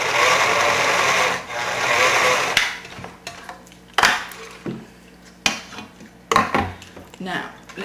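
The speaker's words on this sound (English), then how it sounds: "So now we're going to attach this with 1 row of stitching. So this is a really easy bit, just a straight seam." A domestic sewing machine runs continuously while stitching a straight seam on a zipper fly front, then gives way to short stop-start bursts near the close.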